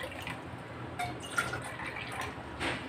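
Water poured into a cooking pot at the start of making masala chai, a soft continuous trickling and splashing close by, fairly quiet, with no talking.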